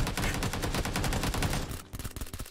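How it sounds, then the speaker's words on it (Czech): Rapid automatic gunfire in the battle royale video game PUBG Lite, a dense burst of sharp shots followed by sparser single cracks, loud and close. "Střelba po mně."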